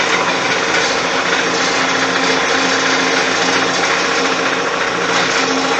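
A loud, steady, continuous mechanical whine and drone from an air compressor inflating the tire of a Kawasaki Ninja H2 motorcycle, close and unbroken throughout.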